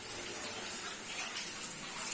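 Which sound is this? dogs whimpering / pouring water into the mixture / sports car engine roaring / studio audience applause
pouring water into the mixture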